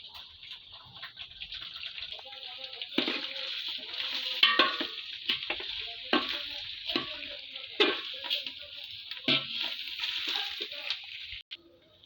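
Pulao rice fries in a pan after ginger paste, stirred with repeated scraping strokes over a soft, crackling sizzle; nobody speaks.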